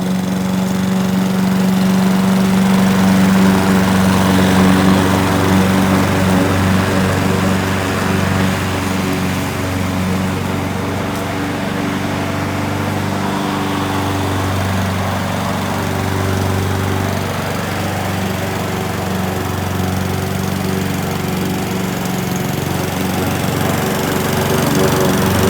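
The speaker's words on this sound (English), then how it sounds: "We have the mower set at its lowest setting, so whatever we bag up is what we're gonna bag up." A lawn mower set to its lowest cutting height runs steadily up close on a Bermuda grass lawn, bagging clippings and weeds, with a loud continuous engine drone and slight variations in load.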